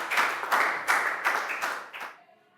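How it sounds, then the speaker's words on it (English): A classroom of pupils clapping for a classmate in an English lesson, several loud bursts of rhythmic applause in quick succession that stop abruptly, leaving quiet. "a big round of applause for Pat"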